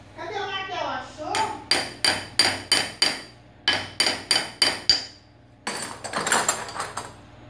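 A child strikes a toy car with a toy hammer, a steady run of sharp, close knocks in two bursts separated by a short pause, followed by a rattling clatter, with a little voice at the start.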